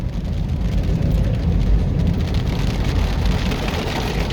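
Heavy rain pours steadily during a drive through flooded Kingston roads with poor drainage, a dense, loud, unbroken roar with no voices.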